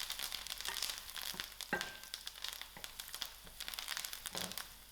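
Onions frying in a pan with thyme just added, a soft steady crackling sizzle with light scraping and stirring noises, close and fairly quiet, no talking.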